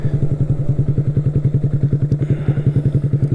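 A 2022 Honda Grom motorcycle exhaust burbles loudly and close by, a rapid rhythmic thumping pulse that holds steady from start to finish.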